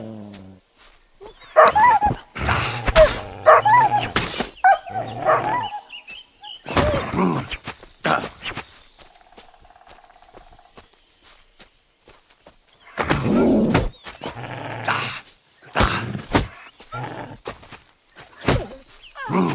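Dog in the video game Kingdom Come: Deliverance II barking, growling and whimpering in scattered loud bursts separated by quiet gaps, with occasional game sounds and some voices between.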